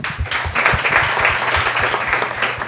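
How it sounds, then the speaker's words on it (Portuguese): A live audience at a talk on sport and veganism bursts into close, lively clapping, with individual hand claps standing out in a brisk, uneven rhythm throughout. "Palmas para vocês."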